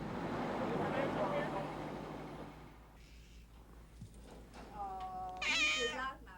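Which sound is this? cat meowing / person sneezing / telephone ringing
cat meowing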